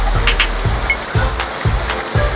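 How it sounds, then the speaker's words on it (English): Rain falling at La Défense in Paris, a steady wet patter on hard surfaces alongside repeated low thumping impacts at a regular beat, close and fairly loud with no voices. "it started raining when we got there"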